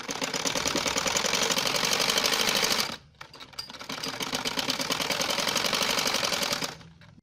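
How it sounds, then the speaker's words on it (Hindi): Sewing machine stitching lace piping onto a chiffon dupatta, running in a steady rapid whir for about three seconds, pausing briefly, then stitching again before stopping. "अब मैं इसकी दूसरी तरफ सिलाई लगाऊंगी।"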